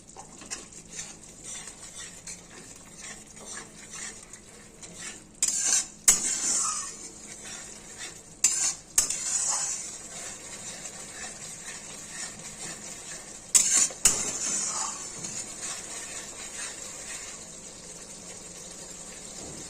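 Eggplant being stirred in a little oil in a pan for begun kofta, with quiet background and a few short bursts of utensil clatter and scraping against the pan.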